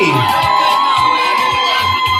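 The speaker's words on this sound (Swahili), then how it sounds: "Tunamkaribisha bwana harusi na shangwe na vigelegele" A wedding crowd cheers to welcome the groom, the sound loud, continuous and close, with high shouts and whoops and rhythmic beats running underneath.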